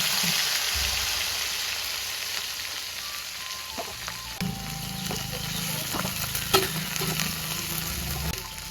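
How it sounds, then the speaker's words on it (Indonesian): Anchovies (teri) frying in oil for sambal give a steady, loud sizzle that goes on throughout, with clatters from stirring in the pan toward the end. "Terinya digoreng."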